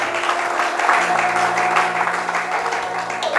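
Congregation clapping in a church service, a steady wash of applause over sustained keyboard notes, with a voice speaking faintly beneath it.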